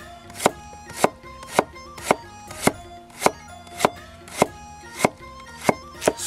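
A knife chops scallions on a cutting board with a dozen sharp, evenly spaced thuds about twice per second, close and loud, each one clear against a quiet background.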